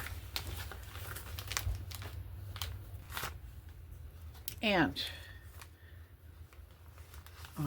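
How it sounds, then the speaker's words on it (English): Papers are shuffled and handled during craft work, producing repeated crinkling and rustling bursts close by, with one longer crumpling stretch midway and a person speaking briefly. "I can't help the crinkling. Everything's very crinkly."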